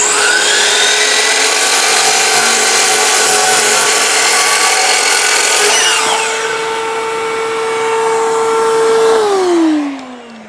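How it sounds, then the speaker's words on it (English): A chop saw slices through fiber cement siding on a workbench, a loud, steady abrasive whine with a gritty roar that holds for about nine seconds, then winds down as the blade spins to a stop. "I could do this only with the jigsaw, but I'll do it with the chop saw"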